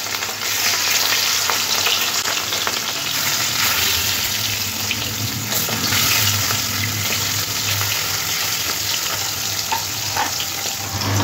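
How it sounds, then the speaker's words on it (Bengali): Marinated rohu fish frying in hot oil, a loud, continuous sizzle and crackle that holds steady throughout, with no voices. "তেলটা গরম হয়ে আসলে ম্যারিনেট করা মাছগুলো তেলের মধ্যে দিয়ে এপিট ওপিট করে একটু হালকা লাল লাল করে ভেজে নিতে হবে।"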